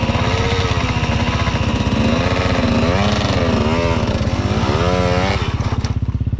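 Loud motorcycle engine close by, revving up and down in rising and falling surges over a rough idle before easing off at the end.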